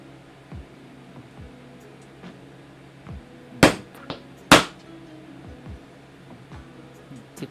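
A hammer taps leather for utility belts, with two sharp, distinct strikes standing out over a low background hum and a few faint softer knocks.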